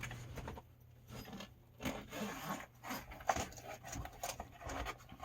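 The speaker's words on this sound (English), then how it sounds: "Just need to be gentle with those zippers, right?" Zippers on a Verona being worked during setup, producing short scraping zips and rubbing sounds in irregular bursts, close and fairly quiet with brief pauses between pulls.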